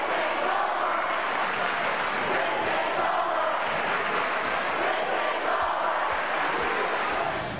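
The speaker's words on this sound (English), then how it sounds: "We have different chants for them." A high school student section chanting at a football game, a loud, dense crowd roar with rhythmic surges that stays steady for several seconds.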